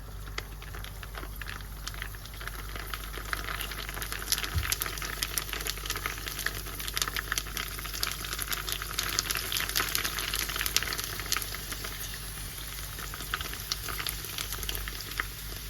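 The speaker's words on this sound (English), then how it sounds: "Should take less than a minute to fry." Pakoras deep-frying in hot oil, a steady bubbling sizzle with dense crackling pops throughout, fairly quiet and close, with no talking.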